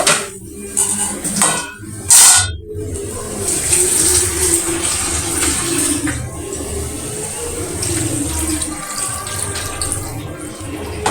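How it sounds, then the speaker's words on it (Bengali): Water poured into a pot of braised hilsa fish curry with taro and eggplant gives a steady rushing splash, with a few louder bursts early on before settling into an even flow. "এখন আমি এখানে পানি দিয়ে দিব।"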